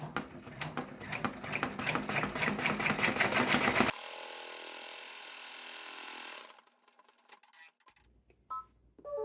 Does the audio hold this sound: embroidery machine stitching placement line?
yes